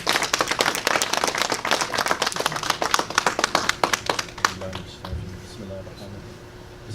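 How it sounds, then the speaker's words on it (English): A community gathering applauds Imam Shane Atkinson after a special lecture, with brisk, close clapping that stops partway through, leaving a quiet room and a voice beginning to speak. "So can we give Imam Shane a round of applause?"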